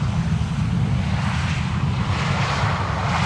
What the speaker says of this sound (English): There is a twin jet control passing overhead to the northeast right now.